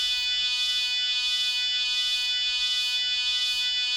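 An Elektron Model:Cycles synth holds a bright, sustained metallic tone whose timbre swells and recedes in slow, regular waves as a sine LFO sweeps the shape parameter, loud and alone.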